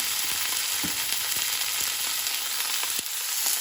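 Salmon fries in hot oil in a frying pan, a steady close sizzle with a few soft clicks and taps of the pan throughout, and no voices.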